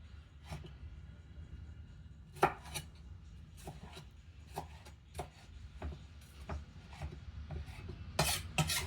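A knife chops tomatoes finely on a board in quiet, irregular taps, about a dozen strokes with a few sharper ones, heard alone.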